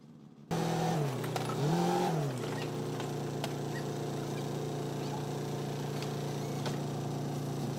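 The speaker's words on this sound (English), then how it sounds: "Next is the car carrying the bricks to the destination." A vehicle carrying bricks rumbles steadily up close, with a brief rise in engine pitch early on before settling into a constant drone.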